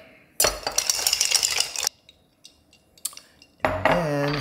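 Ice cubes clatter and clink in a glass as a bourbon cocktail is stirred, a dense, loud rattle that stops, returns briefly with a few clinks, then comes back in a final burst of jangling.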